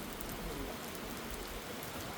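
Heavy rain pours steadily outdoors near a fish market in Riyadh, a dense continuous hiss of drops with no pauses, loud and close.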